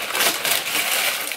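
Paper wrapping from a shoe box handled up close, a continuous bright rustle and crinkle that fills the whole moment without pause.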